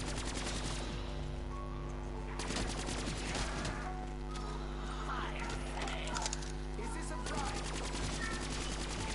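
Black Ops 3 zombies gameplay carries rapid bursts of gunfire as players shoot zombies, a dense crackle of shots heard faintly under a constant low hum.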